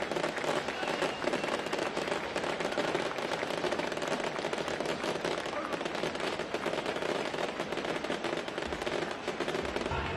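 Fireworks go off at a 1996 Bradford Bulls versus London Broncos rugby league match in a stadium, a dense, continuous crackling barrage of pops and bangs heard from a distance beneath the crowd.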